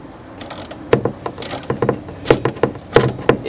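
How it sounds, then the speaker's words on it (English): A ratchet wrench clicks in short bursts while tightening a nut on a threaded stud on a 2007 Ford Mustang, several quick rattling strokes with brief pauses between them, close up. "so I'm gonna go ahead and use the wrench"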